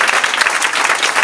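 A church congregation applauds in a dense, steady burst of clapping that runs the whole time, loud and close, with no voices over it.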